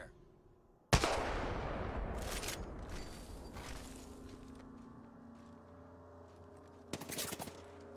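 Gunfire in a video game: a sharp, loud shot near the start rings out into a long decaying echo, followed by a few quieter bursts and a second cluster of shots near the end, with no talk.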